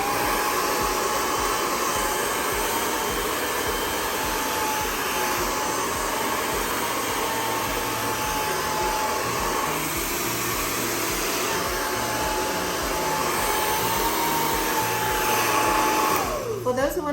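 A hair dryer blows steadily at high power, a constant loud whoosh with a faint whine, running unbroken for the whole stretch.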